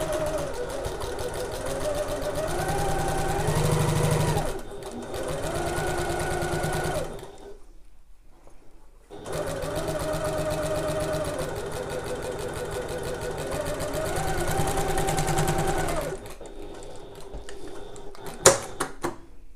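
A domestic sewing machine stitches through layered bag-flap fabric at regular stitch length, running in long steady bursts with a short pause midway and a final stop, close and fairly loud, with no talk.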